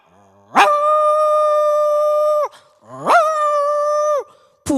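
A mimicry artist on a stage reality show imitates a dog howling: two long, steady, tonal howls, each rising sharply at the start and held for about two seconds, loud and clean, with a third starting at the end.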